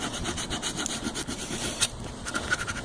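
A plastic scraper rubs hard across a vinyl stencil cut on a Silhouette die cutter, pressing it down in steady, close scratchy strokes with a couple of sharper scrapes near the end.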